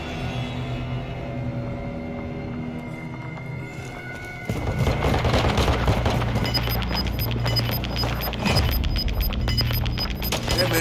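Rapid gunfire in Call of Duty: Modern Warfare II during online multiplayer or battle royale play, bursting in loud and dense after a quieter tonal stretch, then crackling on in fast repeated shots to the end with no voices.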